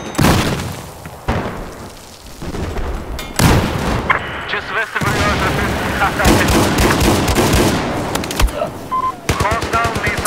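M249 machine gun in Battlefield 4 fires in rapid sustained bursts, loud and close, mixed with booming explosions and other battle noise, while someone talks over the gunfire.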